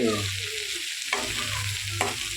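Mustard seeds, chana dal, onion, green chili and curry leaves fry over a low flame in a pan for a pumpkin palya. A steady close sizzle runs throughout, broken by two scraping stirs.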